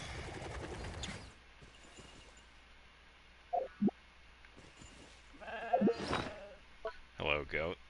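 A goat in Genshin Impact gives a few short bleats midway and again near the end, fairly quiet over low game ambience, with a voice talking at the start.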